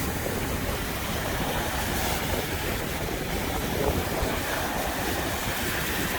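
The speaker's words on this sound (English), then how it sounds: "Definitely a super windy day here" Strong wind buffets the microphone over a continuous wash of waves breaking along the Lake Erie shore at Headlands Dunes State Park, loud and unbroken, with no one speaking.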